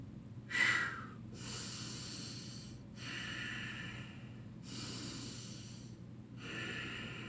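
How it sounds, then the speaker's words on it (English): Audible breathing during a dumbbell curl: slow alternating inhales and exhales of about a second or two each, close to the microphone, with a sharper snort-like breath at the start and no talking. "See, I'm inhaling as I lower it. Exhale as I raise it"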